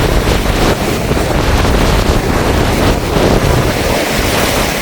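Cyclone-driven waves crash onto the shore at Jaffna under a constant roar of strong wind buffeting the microphone, a loud, dense and unbroken surge of surf and gusts with no voices.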